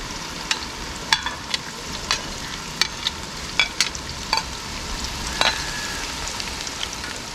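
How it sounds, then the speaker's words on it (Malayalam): Sliced onions and green chillies sizzling in hot oil for a fish head curry, a steady frying hiss broken by repeated sharp clicks and scrapes of stirring, with no talking. "എണ്ണ നന്നായി ചൂടായി കഴിഞ്ഞിട്ട് നമുക്ക് സവോളയും പച്ചമുളകും ചേർത്ത് കൊടുക്കാം."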